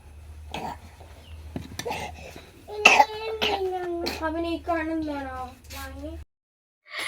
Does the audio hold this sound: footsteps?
no